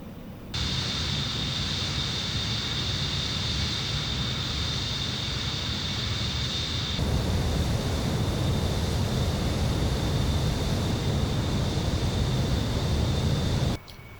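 A simulated Concorde jet taxis toward the runway at Kuwait International, with a steady, loud engine roar and a high whine holding constant for about thirteen seconds before cutting off.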